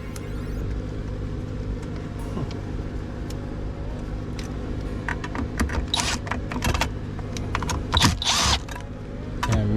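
Small bolts on a Uconnect 8.4 touchscreen unit are loosened with a Milwaukee tool, giving close mechanical whirring and ratcheting over a low hum, with sharper clicks and rattles toward the end.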